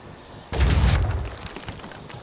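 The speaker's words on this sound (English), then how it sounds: "Return fire from the Hell Cannon." A Hell Cannon fires in Phoenix Point: Terror from the Void, a single heavy boom that hits hard and rolls off into a decaying rumble with faint clatter after it.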